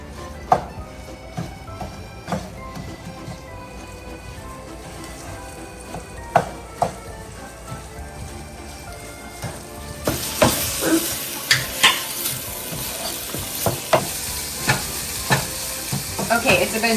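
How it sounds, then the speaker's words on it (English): A ragu mixture sizzles and fries in a pan while being stirred, a steady crackling sizzle punctuated by scraping stir strokes and utensil knocks, growing brighter and busier partway through, close and without talking. "we're gonna go ahead and just stir this for about 10 to 20 minutes until it's golden brown"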